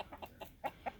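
Chickens in a pen, a Kelso rooster and hen among them, giving soft repeated clucks in a loose rhythm, close by but faint, with no talk.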